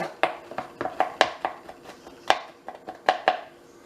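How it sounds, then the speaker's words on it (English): A knife chops fresh ginger on a cutting board with a quick, irregular series of about a dozen sharp, close taps, some in rapid pairs, then a brief pause near the end. "Just want to mince this a little bit so the flavor can be in my food"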